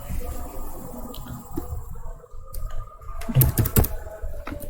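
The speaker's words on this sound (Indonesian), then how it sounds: "dengan cara kita ketik nano" Keystrokes on a computer keyboard entering the nano command at a server terminal, a sparse scatter of soft taps that clusters into a quicker burst of clicks near the end over low room hum.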